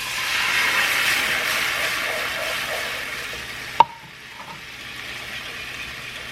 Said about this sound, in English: we can go ahead and add the water.